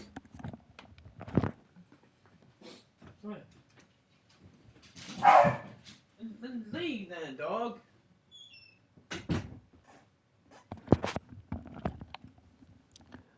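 A pet dog barks a few times indoors in the background during a Spider-Man 2 gaming session. The short barks are mixed in with people talking and game sounds.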